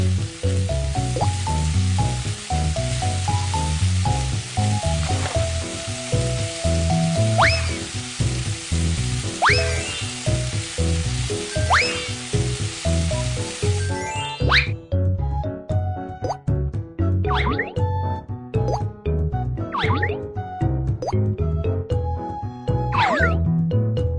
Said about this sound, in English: It's time to fry the ham.